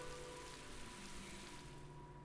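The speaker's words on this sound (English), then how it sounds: "Perhaps it's because of this rainy weather we've been having." Rain falling steadily in the video game Tales of Graces F, a soft continuous hiss with faint background music tones underneath, quiet and even throughout.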